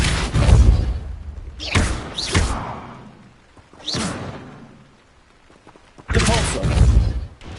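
Compulso spell cast in Hogwarts Legacy, heard as several loud whooshing magical bursts with heavy thuds, spaced a second or two apart, the last two close together.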